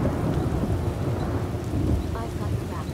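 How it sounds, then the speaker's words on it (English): Heavy rain pours steadily with rumbling thunder rolling through in the video game Skyrim, a loud, continuous storm filling the whole stretch, with brief tonal game sounds near the end. "that's very loud thunder"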